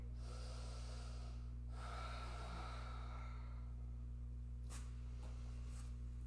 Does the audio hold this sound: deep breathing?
yes